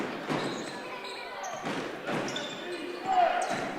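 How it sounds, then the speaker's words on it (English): Crowd at a varsity boys' basketball game chanting in a steady rhythmic pattern, a dense swell of many voices with regular pulses, ball bounces and a commentator's voice mixed in. "Hear the defense chant by the crowd."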